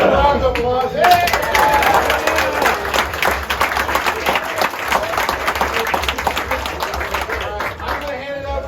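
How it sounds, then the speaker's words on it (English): Crowd at a rally awards ceremony breaks into a loud, sustained round of applause with dense clapping, a brief cheer near the start, and a steady wash of claps continuing to the end. "Round of applause."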